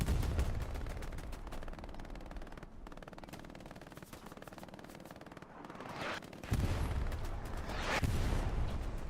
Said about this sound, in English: That artillery means business.